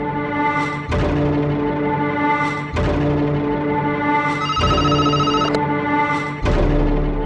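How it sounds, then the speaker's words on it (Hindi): A telephone rings in repeated bursts with brief gaps, a loud tonal electronic ringtone sounding alone in a quiet room. "जानकी मैम का फोन है।"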